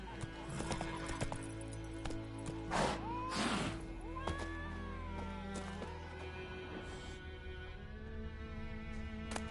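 A horse in The Witcher video game whinnies loudly with a rising and falling neigh, alongside clip-clopping hooves and a steady game music background.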